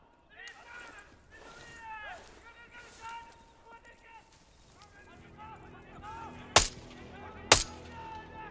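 Two sharp, loud gunshots ring out close together near the end of a quiet stretch of talk during a Call of Duty Black Ops 6 campaign mission.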